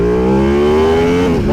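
A brand-new sport motorcycle with full Brembo brakes revs hard up close, its engine note climbing steadily in pitch before a brief drop, loud and alone.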